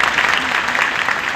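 A crowd at a public welcome event in the temple town of Shirdi applauds loudly, a dense, even burst of clapping with voices mixed in.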